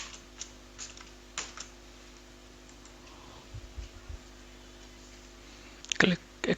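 Computer keyboard keys tapped in scattered short bursts while entering a verification code, faint and close, with a steady background hum and a louder clatter of keystrokes near the end.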